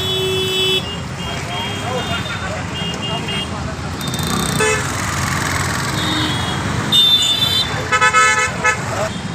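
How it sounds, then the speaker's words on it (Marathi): Car horns blare in a traffic jam at Shivneri Chowk in Sambhajinagar, after a smart bus broke down at the junction, several toots overlapping near and far over steady engine rumble and road noise, with a voice talking throughout. "स्मार्ट सिटीमुळे पूर्ण ट्रॅफिक जाम झालेली आहे"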